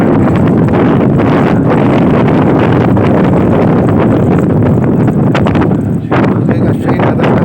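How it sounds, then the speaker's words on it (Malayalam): Strong, cold sea wind buffeting the microphone aboard a train ferry crossing the sea, a loud continuous roaring gust noise with rumbling low end and occasional flutter, no speech over it. "രക്ഷയില്ലാത്ത കടൽ കാറ്റാണ്"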